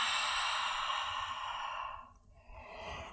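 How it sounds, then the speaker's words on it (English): Long audible exhale during a yoga breathing practice focused on belly control, a steady breathy rush that fades out, followed by a softer breath. "Exhaling."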